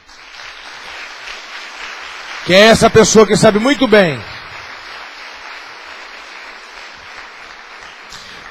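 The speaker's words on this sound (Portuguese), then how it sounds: "Dê uma salva de palmas pela vida do teu irmão" A church congregation claps steadily throughout, a dense wash of applause running under a preacher's loud spoken voice midway.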